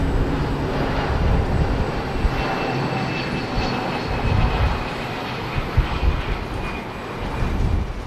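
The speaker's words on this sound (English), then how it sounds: "Turkish Airlines from Istanbul. The Airbus A330." A Turkish Airlines Airbus A330 jet from Istanbul passes at Heathrow, its engines a loud, steady broadband roar with a faint whine, sustained throughout without talk.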